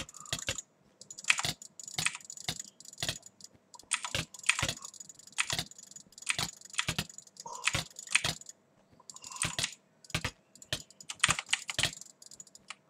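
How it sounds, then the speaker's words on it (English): Fast jitter clicking on a computer mouse during Minecraft PvP, heard as dense bursts of rapid, sharp plastic clicks in irregular clusters that continue for several seconds, fairly close and with no speech. "Yeah, jitter clicking is not my thing."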